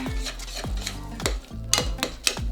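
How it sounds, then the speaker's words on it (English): A spoon stirs butter into hot custard in a metal pot, giving repeated scraping strokes with light clinks against the sides, close and moderately loud with no talking. "I'm going to stir in my tablespoon of butter"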